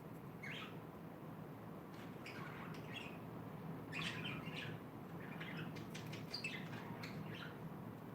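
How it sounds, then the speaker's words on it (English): Pet birds chirping and tweeting in a room, faint scattered high calls repeating throughout over a steady low background hum, no talking. "If the birds get too noisy, let me know, and I'll try to keep them quiet"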